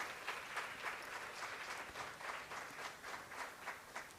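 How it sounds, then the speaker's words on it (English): An audience at a first-generation graduation celebration applauding the graduates' families, a sustained, even wash of clapping from a large crowd, moderately distant. "I just want to take a moment to give them a round of applause"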